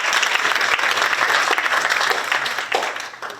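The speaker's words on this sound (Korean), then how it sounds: "과장님을 큰 박수로 모시겠습니다" Audience applause at a Korean community council inauguration ceremony in San Francisco, a steady dense burst of clapping from a seated crowd that tapers off near the end.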